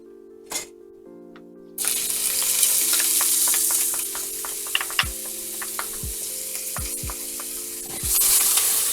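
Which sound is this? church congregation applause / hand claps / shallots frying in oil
shallots frying in oil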